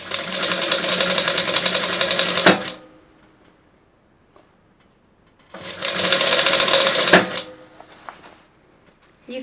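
A sewing machine stitches a fitted tube dress with a deep V back in two loud, rapid bursts of a few seconds each, separated by a quiet pause with faint handling noises.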